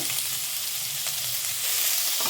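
Sliced onions with bay leaves and fennel seeds frying in a pan, giving a dense, even sizzle with faint stirring scrapes, close and steady with no voices.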